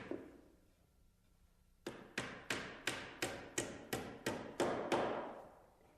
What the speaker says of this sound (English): I flush it up with a carriage and tack it in place with a small nail